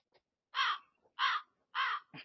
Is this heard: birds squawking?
yes